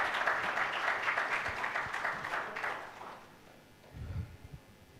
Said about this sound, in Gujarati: પહેલાં તો આપણે પોતાના માટે તાળીઓથી ચાલુ કરીશું કે બધા અહીંયા આવ્યા